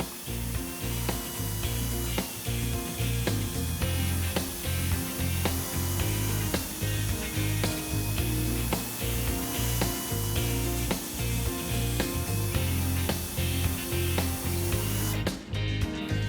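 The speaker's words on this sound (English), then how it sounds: "Proper drilling with the appropriate size carbide cutter ensures complete damage removal" Steady grinding and whirring of a drill with a carbide cutter boring through a damaged tire's rubber, with a rhythmic pulsing as the cutter works, continuous and close, no talking.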